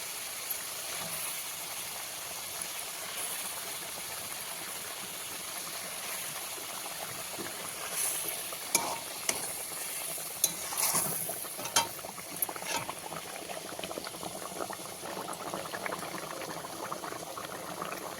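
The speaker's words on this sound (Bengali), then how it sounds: "মশলাটা ঝোলটা ফুটে উঠেছে, এবার আমি মাছগুলো দিয়ে দেবো।" Spiced gravy for a rohu fish rezala boiling in a pot, a steady dense bubbling hiss throughout with a few louder pops and clicks of cookware midway, close and continuous with no voices.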